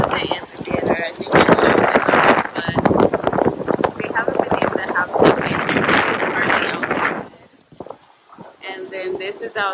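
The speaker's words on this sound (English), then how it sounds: "Outside, it's so windy" Stormy wind and rain in Cancun roar close against the microphone while someone talks over it for most of the stretch, with a brief quieter gap near the end.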